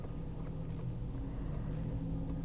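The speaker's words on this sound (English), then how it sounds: "Once Pearlie guides the truck backwards here" A fire truck reverses at the end of an Easter parade, its engine a steady low rumble that holds close and even throughout.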